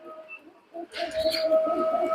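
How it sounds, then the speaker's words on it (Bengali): A common myna calls with thin whistles, then a sustained tonal squawk and chatter close by, fairly loud against a quiet background. "এই দেখেন আমাদের শালিক পাখি"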